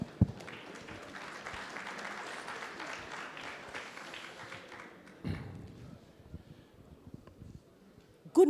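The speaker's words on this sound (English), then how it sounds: "So we have to clap for her as well." Shareholders at an annual general meeting of a Nigerian energy marketing company applaud in a steady, moderate patter of claps for several seconds, then it fades to a quiet room with a few thumps.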